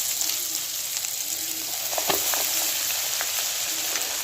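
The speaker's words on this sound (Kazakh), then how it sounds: "Екінші бетте қызарғанша қуырып, одан кейін қағаз майлықтың үстіне қойып аламыз" Eggplant slices frying in hot oil in a pan, a steady close crackling sizzle with occasional sharper pops and spits.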